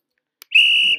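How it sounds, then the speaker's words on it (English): A single sharp, loud referee whistle blast from a video game, preceded by a brief click, sustained about half a second and then cut off. "they all have the same referee whistle sound and dunk sound"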